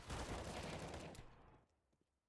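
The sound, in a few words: Negev machine gun firing in Counter-Strike video game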